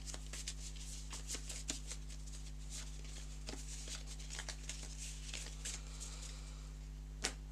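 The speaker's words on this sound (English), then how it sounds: "And shuffle that up." A deck of cards is shuffled during a tabletop board game play session, a run of crisp riffling flicks and soft slaps close by, with one sharper snap near the end and no talking over it.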